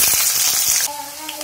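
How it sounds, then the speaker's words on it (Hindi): Potatoes frying in hot oil for aloo badi sabji, a steady dense sizzle that runs throughout, with a faint tonal hum entering partway. "अब इसमें आलू भी फ्राई करेंगे हम।"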